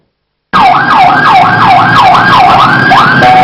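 A loud ambulance siren wails in a fast, repeating up-and-down pattern right after a brief silence, close and continuous.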